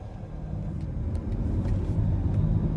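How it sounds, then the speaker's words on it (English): A 2018 Cadillac XT5 Platinum AWD pulls away on the road, its steady low engine and road rumble building slightly as it sets off, close and continuous with no talk. "let's go ahead and take this vehicle out on the road for a quick test drive"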